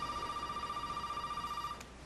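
A telephone rings in the horror video game Resident Evil 7, one steady warbling electronic ring lasting nearly two seconds, clear and alone.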